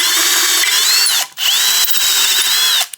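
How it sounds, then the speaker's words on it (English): A 90-degree drill whines loudly in short bursts while working on a custom Yamaha Raptor 660 build, its pitch sliding up and down as the trigger is feathered, stopping briefly mid-run and again at the end. "I think with this 90-degree drill, I can just barely get that in there nice and straight"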